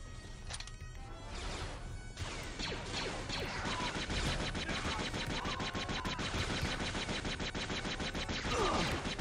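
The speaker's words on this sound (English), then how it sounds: "More people shooting." Rapid bursts of gunfire from enemies in Jedi Knight II: Jedi Outcast, dense and continuous over several seconds, with blaster-like shots, crashes and whooshes layered on top.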